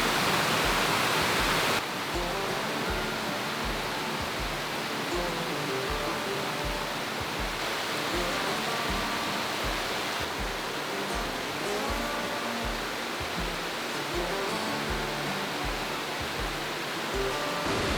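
A waterfall in Wales pours in a constant, full rushing roar, close and steady throughout with no voices.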